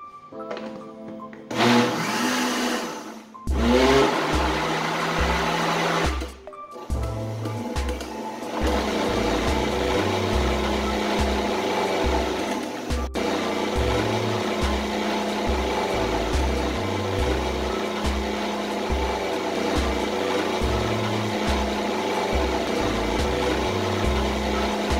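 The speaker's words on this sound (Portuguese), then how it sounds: "E agora voltamos a bater de novo, para a massa ficar bem homogênea." An electric mixer whirs steadily, close and loud, as it beats a pineapple rum cake batter after more flour goes in. The motor starts and stops a couple of times early on, then runs on unbroken.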